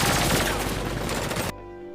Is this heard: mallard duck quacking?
no